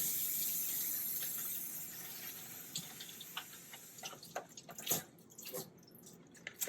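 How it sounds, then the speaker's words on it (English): Cut lettuce rinsed under running water makes a faint, steady tap flow that turns into louder irregular splashes and drips toward the end, close by and with no talking. "I'm gonna give them a good rinse."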